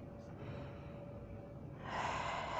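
A forceful exhale rushes out as a loud, breathy whoosh near the end of a repetition during a guided workout, close to the microphone after a quieter stretch of low breathing.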